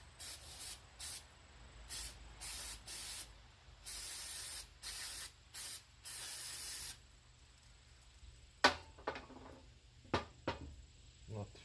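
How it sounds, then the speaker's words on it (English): Cleaner sprayed onto a removed Kawasaki Bayou 220 carburetor in short, close, hissing bursts, about eight in quick succession, then a quieter stretch with a few scattered clicks and handling sounds. "I'm going to go ahead and spray it off a little bit here."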